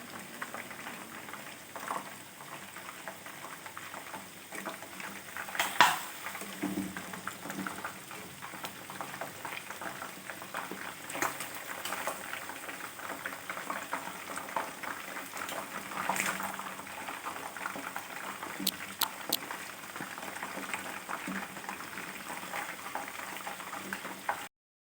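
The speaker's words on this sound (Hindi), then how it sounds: "इनको लाइट ब्राउन होने तक हम इन्हें फ्राई करेंगे" Chicken wings deep frying in hot oil, giving a steady, soft bubbling and crackle that continues for the whole stretch at low volume.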